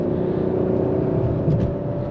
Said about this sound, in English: If you can hear that sport exhaust on this.